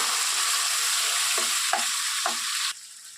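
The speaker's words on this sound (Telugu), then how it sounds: "వీటిని కూడా వేసి కొద్దిగా మెత్తబడే వరకు వేయించుకోవాలి." Chopped tomatoes and onions fry in a pan for an Andhra-style bottle gourd curry, a loud continuous sizzle with a few soft stirring scrapes before the hiss drops away near the end.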